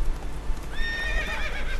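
A horse whinnies loudly partway through in the video game The Witcher 3: Wild Hunt, its high shaky call ringing out over faint hoofbeats and a low rumbling background.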